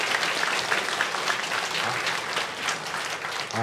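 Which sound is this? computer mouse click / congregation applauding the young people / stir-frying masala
congregation applauding the young people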